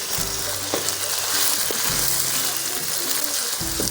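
Chopped tomatoes sizzle loudly in a pan with capsicum, a continuous close hiss of frying broken by a few soft knocks of stirring, with no talk.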